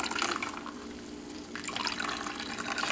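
Homemade almond milk strains through a filter, a continuous wet trickle and patter of dripping liquid with no voices.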